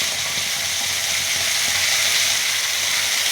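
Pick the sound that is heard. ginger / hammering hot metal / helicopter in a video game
ginger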